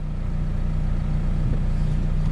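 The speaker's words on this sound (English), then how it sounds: "Another traffic jam thanks to the Labor Party." A car engine idles low and steady in a traffic jam, a constant rumbling hum from inside the vehicle with no talk.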